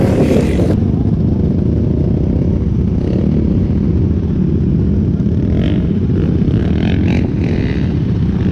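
Dirt bikes drag racing on the sand dunes of Little Sahara state park, including a 250 two-stroke, roar loudly and steadily with engine rumble and revving, close and continuous throughout.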